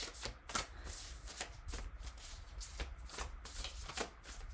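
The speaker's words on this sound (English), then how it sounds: "Let me try to remember it while I pull the rest of the cards." Tarot cards are shuffled and pulled by hand, giving soft, repeated riffling and papery slaps in an irregular rhythm, close and quiet, with no talking.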